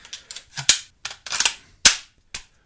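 Close, crisp metallic clicks and clacks in an uneven sequence of about eight, some doubled, as the bolt catch on a Smith & Wesson M&P 15-22 .22 rifle is pushed up and the bolt locks open, with no talking.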